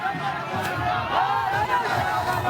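A big crowd at an election road show before a candidate's nomination filing, steady loud hubbub of many overlapping voices and cheers, close and continuous throughout.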